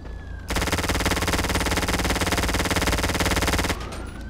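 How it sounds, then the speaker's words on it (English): Sustained automatic gunfire rattles in a video game, one continuous burst lasting about three seconds, dense and loud, then cutting off abruptly. "God, I love that gun sound."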